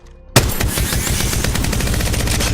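Rapid automatic rifle fire in a video game bursts in sharply after a brief quiet start, then runs as a dense, loud, continuous stream of shots.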